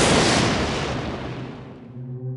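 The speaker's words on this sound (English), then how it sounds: "Lightning!" Lightning spell effect from the Warcraft 3 game: a loud sharp crack bursting into a booming roar that decays over about two seconds into a low fading rumble, heard alone.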